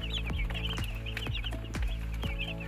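Broiler chicks cluck and peep in a pen, several nearby birds calling in quick overlapping bursts over a steady low farm hum.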